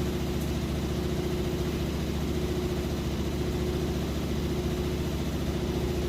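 A Maytag Bravos HE top-load washer spinning extremely fast with a heavy load, giving a steady, loud droning hum with a low rumble and slight vibration that holds evenly throughout, with no talking.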